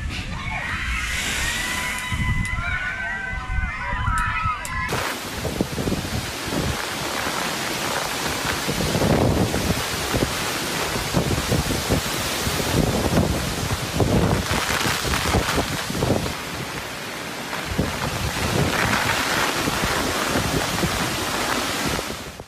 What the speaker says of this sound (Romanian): Vântul care a suflat cu până la 235 de km pe oră a smuls acoperișuri și a doborât copaci sau stâlpi de electricitate.